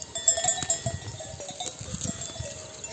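Sheep, including merinos, on a highland pasture, with faint bells clinking and ringing through the quiet and soft scattered shuffling nearby.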